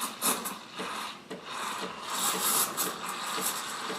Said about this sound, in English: This time right now is when we're stretching the milk and giving it that nice micro foam.